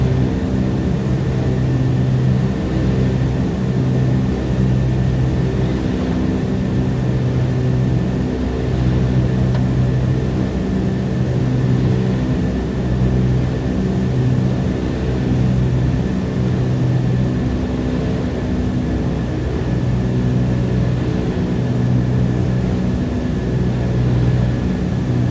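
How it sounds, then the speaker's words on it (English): Steady, loud drone of an airliner cabin on final approach into Yellowknife during a snowstorm, a continuous engine roar with a faint high whine running unbroken throughout, no voices. "So we just try to keep the speed and keep the aircraft as stable as possible"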